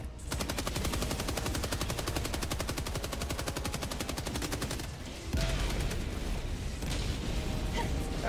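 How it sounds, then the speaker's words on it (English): An orbital barrage strike in a video game unleashes a relentless, rapid-fire stream of loud impacts like heavy machine-gun bursts. The thundering volley continues with a deeper explosive surge partway through. "Firing orbital barrage,"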